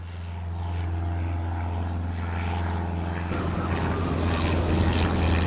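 Four propeller planes setting out on an expedition, heard as a steady, continuous engine drone that grows slightly fuller and rougher toward the end, with no talking.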